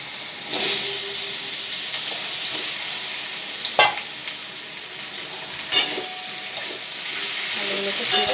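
Cut potatoes slide into hot oil in a pan for a vegetarian aloo posto lunch, sizzling and frying steadily with a few sharp clatters and stirring knocks.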